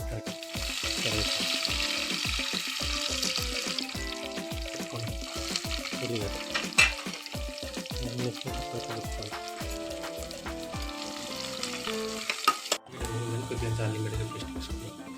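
Lentils, garlic, cumin and dried chillies frying in oil, giving a dense, continuous crackling sizzle with background music and a voice, briefly dipping near the end.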